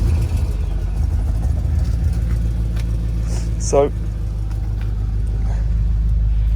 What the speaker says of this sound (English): Should we start the car? Right, let's do a start up.